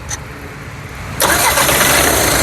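A 2015 Volkswagen Polo Comfortline cranks and fires on a single start, a quiet lead-in giving way to a sudden loud catch and steady idle close by.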